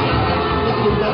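A crowd of fans at a fair's theatre stage shouts and cheers together at a band concert, a loud, sustained burst of massed voices lasting about a second.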